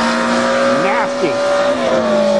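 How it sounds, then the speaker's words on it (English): A motorcycle-engined dune buggy with a slipping clutch, its engine whining steadily while pitch sweeps up and down in short surges, close and loud, with a voice talking over it. "Oh, you can hear that clutch slipping."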